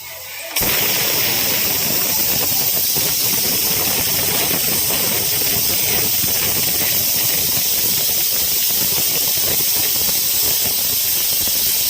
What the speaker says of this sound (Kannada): ಈಗ ಲಿಡ್ನ ಕ್ಲೋಸ್ ಮಾಡಿ ವಿಷಲ್ ಬರ್ಸೋಣ.